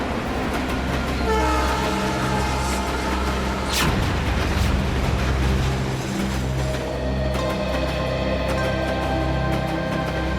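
A train pulls out of a station, its horn sounding loudly, with steady rumbling and rail clatter throughout, close and strong with no talk.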